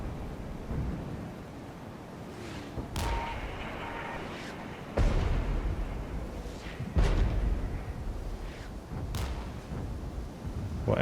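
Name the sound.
mortar fire in the video game Regiments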